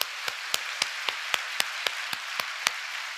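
About a dozen crisp claps in steady unison rhythm from a church congregation, evenly spaced and fairly quiet, with no voices.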